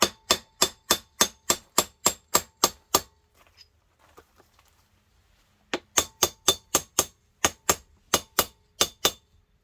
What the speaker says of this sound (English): I'll take my larger disc here and then just hammer